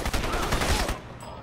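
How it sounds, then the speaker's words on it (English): Incendiary bullet gunfire from the video game Crysis, a dense, loud burst of rapid automatic shots lasting about a second before cutting off abruptly. "it's incendiary bullets"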